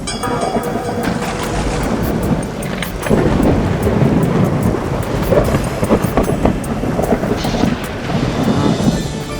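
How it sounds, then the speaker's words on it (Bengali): Heavy rain and rolling thunder in a Bengali folk-tale cartoon set in a jungle: a loud, continuous downpour hiss with deep, swelling rumbles that rise and fall, and no voices. "বৃষ্টিটা একটু ধরেছে মনে হচ্ছে"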